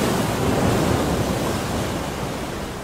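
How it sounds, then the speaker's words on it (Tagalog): Strong waves crash onto a shoreline in a loud, continuous roar of surf, close and unbroken, with no voices. "biglang may malakas na alon ang humampas sa dalampasigan"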